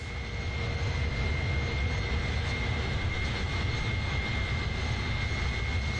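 Airbus A310 jet engines in Microsoft Flight Simulator produce a steady, loud, unbroken roar with a thin high whine running through it, holding constant throughout with no talk.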